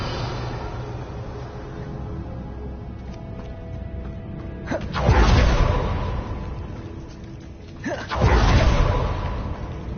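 Revelio spell cast in the video game Hogwarts Legacy, heard as two sharp whooshing bursts a few seconds apart over a quiet creaking ambient background.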